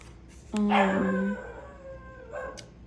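A dog lets out a single loud, drawn-out howl lasting under a second, followed by a fainter, shorter whine; a quiet background surrounds the calls.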